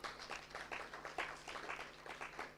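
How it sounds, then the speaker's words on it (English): A small gathering of business owners at a live event claps in a quiet, loosely rhythmic patter, fairly distant and soft. "It is a good time to clap for yourself."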